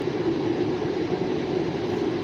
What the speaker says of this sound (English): Yep, we have a train coming now.